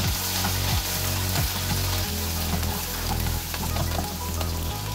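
Green chillies fry in hot mustard oil with popped mustard seeds, a steady close sizzle and crackle running throughout with faint stirring scrapes and no voices.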